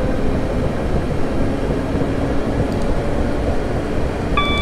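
A train in the Train Simulator 2018 video game runs on the Portsmouth Direct Line toward London Waterloo, giving a steady low rumble and hum of motors and wheels with brief faint beeping tones near the end and no talk.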